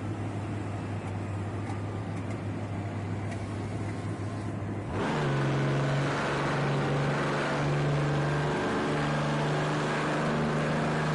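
An Aston Martin DBR1 racing engine in Project CARS 2 on the Nordschleife idles under a hum, then revs up sharply about halfway through into a loud, steady, close drone, with no talking.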